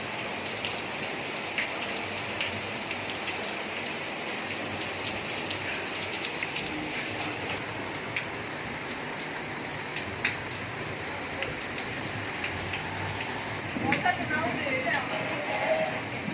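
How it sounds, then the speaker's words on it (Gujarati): Steady, dense rain pours down throughout, a constant hiss with sharper patters near the end, while a voice speaks faintly in the background. "હજી તો વરસાદની સ્પીડ વધે ધીમે ધીમે કરતા."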